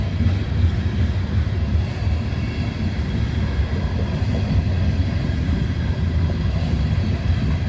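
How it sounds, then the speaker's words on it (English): Freight train locomotives labor up a hill, a loud, steady, dense rumble of diesel power and rolling cars that holds constant and close throughout, with no talking. "Your guys are going to hear the power of the locomotives"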